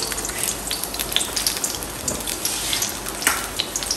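Onion sizzling in a little oil in a frying pan, a steady dense crackle and hiss with scattered pops, close and loud with no talking.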